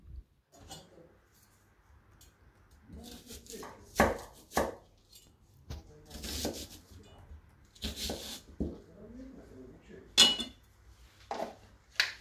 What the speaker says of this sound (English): using the nicer slicer, we'll quickly slice the onion within 10 to 15 seconds before it starts to make us cry